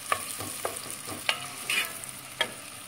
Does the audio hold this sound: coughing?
no